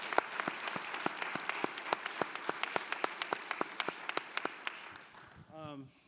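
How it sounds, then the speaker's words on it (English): Applause from an audience at a footwear forum homecoming event, heard as steady, evenly spaced claps at moderate distance that fade out as a voice begins speaking. "please give a round of applause for our amazing sponsors who made this happen today"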